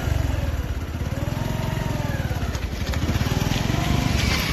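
A motorcycle engine drones steadily at close range, a rapid low throb with a slight rise in revs toward the end.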